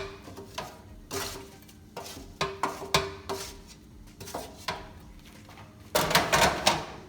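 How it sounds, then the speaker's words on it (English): Roasted vegetables with eggplant being tossed and mixed with salt in a pan, a steady series of scraping, clattering stirs with a louder burst of rattling near the end, no talking. "all we're doing is mixing these vegetables with little salt"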